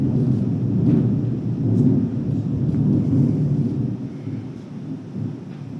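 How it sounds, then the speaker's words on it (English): Continuous low rolling thunder rumbles heavily throughout, with a faint patter like rain over it and no voices. "I'm wondering if you can hear all that thunder."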